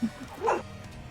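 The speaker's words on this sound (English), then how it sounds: "Stop barking!" A dog gives a single short bark, fairly faint and slightly muffled against background noise, in a brief moment with no talking.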